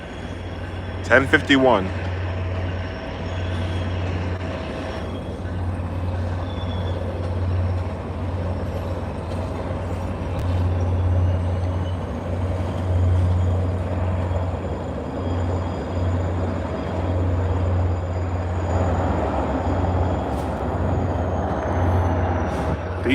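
An F40 diesel locomotive on commuter rail service at South Station, giving a steady, heavy low engine rumble for the whole stretch, with a voice talking over it and a brief sharp squeal near the start.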